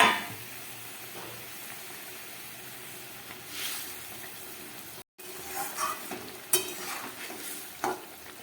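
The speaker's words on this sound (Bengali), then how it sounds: "ঝোলটা ফুটে উঠেছে, এবার এই ভাজা মাছগুলো আমি দিয়ে দিচ্ছি ওপর থেকে।" Fried tangra fish go into a boiling curry and get stirred, giving a soft continuous bubbling sizzle with scattered spoon scrapes and clinks, fairly quiet and without any talking.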